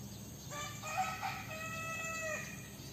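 Several half-breed chickens, among them a mother hen with two grown chicks, cluck softly in the background while a rooster crows once, loud and drawn out, through the middle of the clip.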